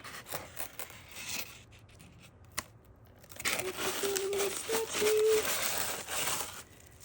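Packing tape on a cardboard box being cut through to open it, with soft scraping, crinkling and a brief squeaky drag of the blade, close and fairly quiet, with a few faint voices around it.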